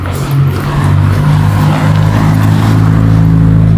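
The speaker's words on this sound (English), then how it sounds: "there's some fucking cars" Cars pass by on a road, a loud, steady engine and tire rumble with a strong low hum that holds throughout, close to the microphone and without any speech.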